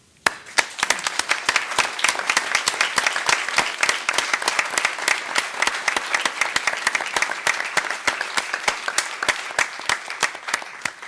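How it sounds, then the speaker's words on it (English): Audience applause for the Mars Curiosity rover team at a briefing: sustained, even clapping from a sizeable crowd, with individual claps crisp and evenly loud throughout. "I would personally like to take this moment to give them a little round of applause."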